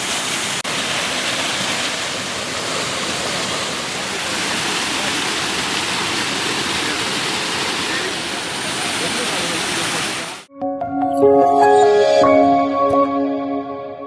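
Monsoon water pours into a deep well in dense forest near Sullia, a steady roaring rush for about ten seconds before cutting abruptly to a different, tonal passage.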